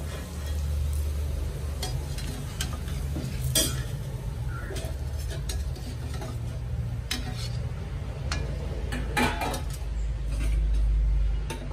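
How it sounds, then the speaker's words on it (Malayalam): Garlic fries in a pan with a continuous low sizzle, punctuated by scattered metallic clinks and scrapes of a spoon against the pan, close and without speech. "ഇനി കുറച്ച് വെളുത്തുള്ളി വറുത്തെടുക്കാം."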